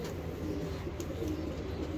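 Soft, low cooing of breeder pigeons, a few murmuring calls repeating over quiet background noise.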